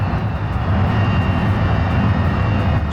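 A car engine in the video game BeamNG holds full throttle, a loud, steady, continuous drone with a low rumble and no pauses.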